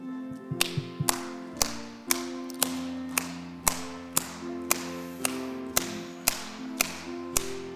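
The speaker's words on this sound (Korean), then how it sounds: "찬송 250장 구주의 십자가 보혈로 우리 박수하시면서 찬양합니다." A congregation at a Korean Methodist church dawn prayer service claps along to hymn 250, sharp unison claps landing on a steady beat about twice a second over sustained keyboard accompaniment.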